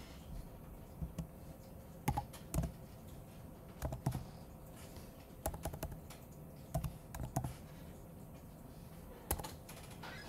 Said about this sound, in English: Hate this keyboard.